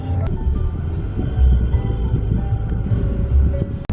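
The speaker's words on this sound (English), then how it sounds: "right now when I'm driving in the car" Low steady road rumble and engine hum fill the interior of a moving car, a constant close drone with small bumps and a brief click near the end, no clear speech.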